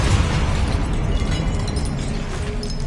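A Confringo fire-blast spell in Hogwarts Legacy erupts in a loud, rumbling explosion with crackling bursts, sustained and close, without any voices.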